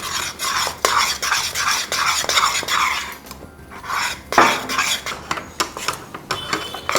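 Rice flour being stirred into hot jaggery syrup with cardamom powder for athirasam, heard as brisk, loud, repeated scraping of a spoon against a metal pot, with short clinks and a brief pause partway through.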